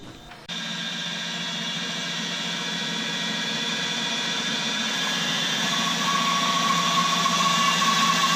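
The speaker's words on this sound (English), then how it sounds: "They'll be the final legs, and I cut that out on the bandsaw." A bandsaw cuts leg shapes from cedar 2x6 boards, a loud, steady high-pitched whine and rasp that starts abruptly and keeps running, growing slightly louder as the blade works through the wood.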